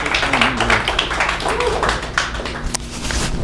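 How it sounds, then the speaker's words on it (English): An audience at a Las Vegas tech meetup demo night gives a round of applause, a dense, steady wash of clapping lasting a few seconds with voices mixed in. "Round of applause for Julian."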